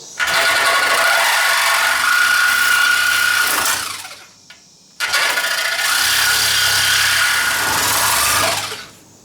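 Cordless reciprocating saw cutting through the cab of a 1967 Ford F100 truck: two loud, harsh bursts of rattling metal cutting with a short pause between them, close and dominant, with no voices.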